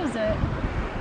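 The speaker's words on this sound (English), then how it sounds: "It might be too much wind." Wind blows on a beach at Tampa/St Pete, buffeting the microphone as a dense, rumbling roar, with a voice faintly present underneath.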